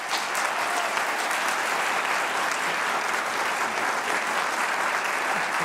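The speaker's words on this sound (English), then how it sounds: "I'd like to give them a round of applause." A congregation applauds steadily, a dense, even wash of many hands clapping close by for several seconds with no voices over it.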